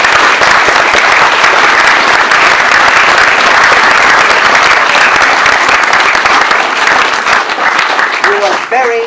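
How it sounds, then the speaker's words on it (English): An audience gives sustained, dense applause for Henry, a World War II storyteller, at the close of his talk. The clapping is loud and steady throughout and fades slightly at the very end. "really big round of applause."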